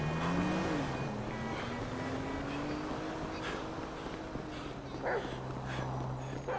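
In Grand Theft Auto 5, a dog yips, barks and whimpers at moderate distance over traffic noise and a low engine hum, with brief cries scattered across the scene.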